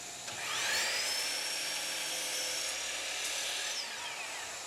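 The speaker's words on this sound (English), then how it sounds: "Then I trimmed them to rough length on the miter saw." A miter saw spins up and trims a face frame board for a custom bathroom vanity, a steady high whine through the cut that winds down at the end, close and alone.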